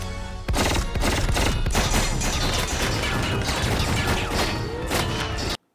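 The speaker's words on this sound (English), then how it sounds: "Bullets just be bouncing off of that." Loud, continuous burst of film gunfire with rapid shots and metallic impacts as bullets ricochet off the masked killer Jason, running dense and unbroken for several seconds before cutting off abruptly.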